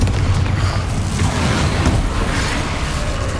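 Fiery Confringo spell blasts in Hogwarts Legacy combat, a dense, continuous rumble of booming explosions with crackling bursts, loud and steady throughout without a clear break.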